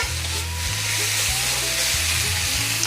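Pork pieces in a frying pan for a broccoli and pork stir fry, a loud continuous sizzle with a low background hum, close and steady with no voices.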